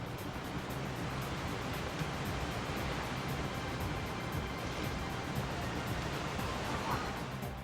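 Steady broadband wash of sea and surf from a ship sailing at sea in the video game Wild Arms, a continuous even rush of waves with no breaks, held at a constant level throughout.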